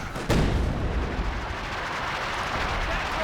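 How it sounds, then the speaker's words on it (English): A howitzer fires in Company of Heroes 2, a single loud close boom that rumbles and fades out over the next few seconds with no talk. "Got a howitzer now for Stocky."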